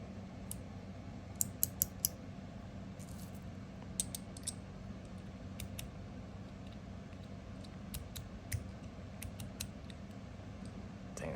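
Zirconium Liuchu One Pal mechanical slider being handled while still unscrewed, giving sparse sharp metallic clicks and snaps in small bursts over a faint steady background hum.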